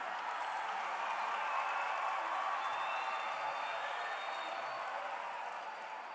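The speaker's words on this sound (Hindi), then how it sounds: "प्लीज जोरदार तालियां हो जाएं आपकी" Audience applause at a World Environment Day event in Indira Gandhi Stadium, Delhi, a broad, steady wash of many hands clapping at a distance, fading slightly toward the end.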